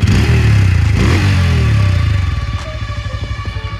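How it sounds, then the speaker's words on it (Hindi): A Bajaj Pulsar N160 motorcycle's exhaust roars loudly and close as the engine is revved, then the note drops back into a throbbing, evenly pulsing idle. "ये है इस बाइक का एग्जॉस्ट नोट।"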